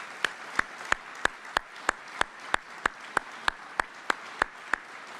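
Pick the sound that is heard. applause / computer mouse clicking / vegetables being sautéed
applause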